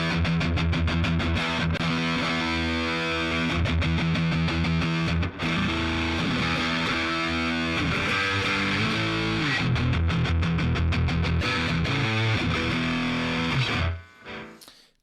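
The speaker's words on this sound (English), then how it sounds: "So we have this set to gain is like 1 o'clock, 2 o'clock." Electric guitar played through a VOX Cambridge50 amp set to high gain, with gain around one to two o'clock, bass at one o'clock and treble at noon, gives loud, sustained distorted chords and riffs that ring out and cut off near the end.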